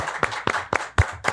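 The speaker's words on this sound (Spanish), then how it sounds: "Esos aplausos, bien." Studio audience applause greeting a guest on a television program: a handful of sharp, separate hand claps spaced a fraction of a second apart, fairly close and moderately loud, with no talk over them.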